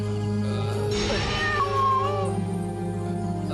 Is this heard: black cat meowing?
yes